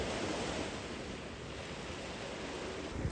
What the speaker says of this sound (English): The ocean is actually right out here.